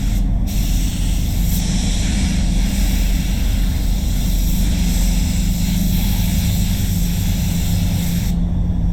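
Spray gun laying clear coat on the side of an FG Ford Falcon during a respray, a steady, close, continuous airy hiss with a low compressor-like rumble and no break for the whole stretch.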